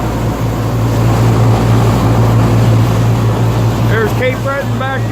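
A lobster boat heading out onto the Atlantic Ocean off Cape Breton gives a loud, steady engine drone over wind and water noise for the whole stretch. Near the end, a few chirping calls sound above the drone.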